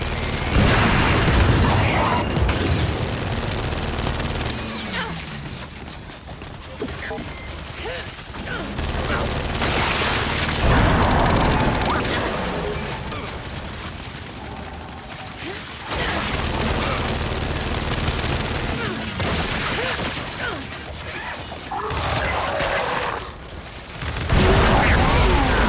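Sustained turret gunfire in the Gears 5 video game, heavy rattling bursts and booming impacts rolling over long stretches with short lulls, mixed with game effects and shouted voices.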